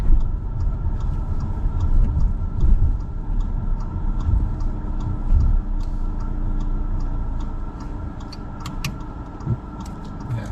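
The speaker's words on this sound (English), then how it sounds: "just leave the engine on." A car engine idles with a low, steady rumble and faint regular ticking, no voices over it.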